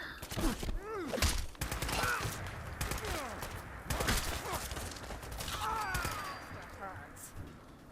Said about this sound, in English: Made me waste my ammo, Kate.